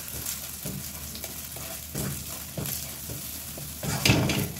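Egg frying in a pan with sautéed pechay and sardines, a steady close sizzle broken by scraping stirs from a utensil, growing louder near the end.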